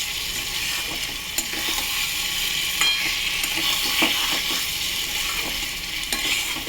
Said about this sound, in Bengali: এবার আমি সামান্য একটু জল দেবো, যাতে ডিমের ভেতরে মশলাগুলো ভালোভাবে অ্যাবজর্ব করে নেয়।